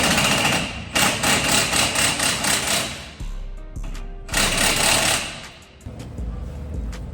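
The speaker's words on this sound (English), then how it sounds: "What I'm gonna do is just run it on with a gun for a little bit" Impact gun running an axle nut onto a Ford Mustang drag car, in two loud rattling bursts with a short pause between them, followed by lower mechanical sounds.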